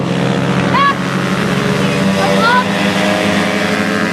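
A moped engine races on a kart track during a mini GP race, giving a steady, close, droning whine that runs throughout beneath an announcer's commentary.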